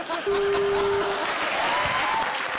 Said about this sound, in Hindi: जोरदार तालियां प्रिंस के लिए।